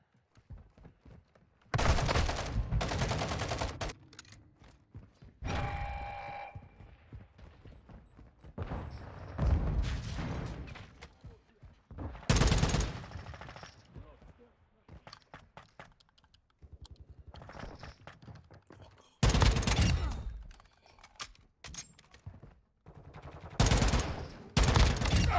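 Guns firing in GTA V, loud bursts of rapid gunfire separated by quieter gaps, with game sounds and faint noises in between.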